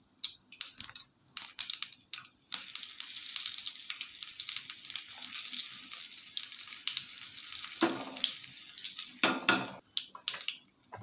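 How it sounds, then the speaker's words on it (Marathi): Tempering of mustard seeds, asafoetida, turmeric and curry leaves sizzling in a pan for dal kairi, a bright steady hiss with sharp crackles and pops and a few clattering bursts near the end. "मोहरी आपली आता छान तडतडली आहे त्याच्यामध्ये आपण थोडं हिंग घालूया थोडीशी हळद घालूया आणि कढीपत्ता घालूया"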